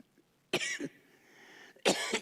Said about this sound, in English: The third is cough.